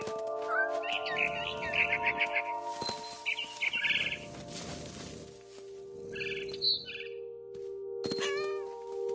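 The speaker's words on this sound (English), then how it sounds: "Then I heard chirping outside my window. It was a barn swallow going back to her nest." Synthetic barn swallow chirps and tweets from the video game What Remains of Edith Finch come in short bursts alongside chime-like tones and soft rustling, with a steady electronic hum underneath.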